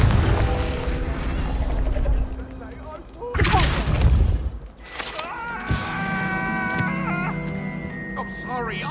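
Confringo blasting spell in Hogwarts Legacy: loud booming explosive bursts over a dense rumbling game soundscape, with a sharp mid-clip blast and ringing magical tones afterward; a character shouts the spell name.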